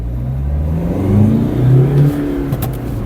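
A cheap used Honda Civic with a 1.7 CDTI diesel engine pulls away hard in first gear, its engine note climbing steadily in a loud, close, continuous drone from inside the car.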